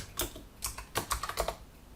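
Quick bursts of computer keyboard typing, about six short clusters of clacking keystrokes in an irregular rhythm, close and fairly quiet, with no voices.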